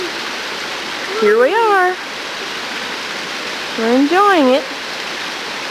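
Creek water rushing over rocks at night on a trail near Gatlinburg, a steady broadband wash close by, with people talking over it twice.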